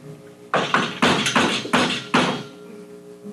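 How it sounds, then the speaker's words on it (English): Five loud, heavy knocks strike a door in an uneven sequence, each blow sharp and resonant with a short decay, close and alone with no talking. "There is a loud knock at the door."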